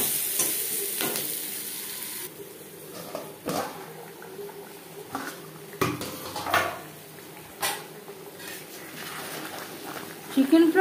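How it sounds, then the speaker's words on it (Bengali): Potatoes fry with salt and turmeric in a wok, a low sizzle broken by clattering stirs and scrapes of a utensil against metal, while a voice speaks over the cooking. "অন্য একটি কড়াইতে আমি লবণ হলুদ দিয়ে আলু ভেজে নেব।"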